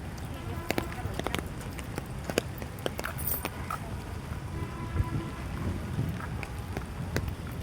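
Steady rain falls in Ramna Park, Dhaka, pattering on trees and a walkway with puddles. Scattered louder drips and taps sit over a constant soft wash, and faint voices are heard beneath.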